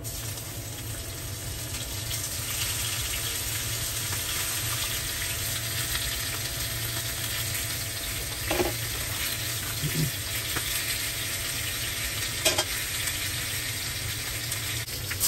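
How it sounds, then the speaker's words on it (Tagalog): Fish sizzles steadily in a frying pan, a constant bright hiss with a few faint clinks and pops along the way. "Prito rin ako sa kabila ng isda."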